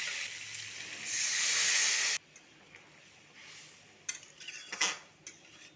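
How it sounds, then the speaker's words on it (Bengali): Water added to a pan of sautéed potatoes sets off a loud hissing sizzle that cuts off abruptly after about a second, followed by quiet scrapes and clinks of a utensil against the pan. "এরপরে জল দিয়ে দেবো।"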